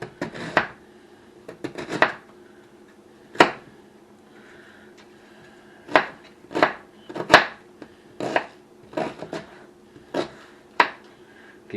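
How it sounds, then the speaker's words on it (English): A knife chops food into thin shreds on a cutting board for a hamburger casserole, with sharp irregular thuds in scattered clusters, close and clear against a quiet room hum. "cut that up in nice thin little shreds"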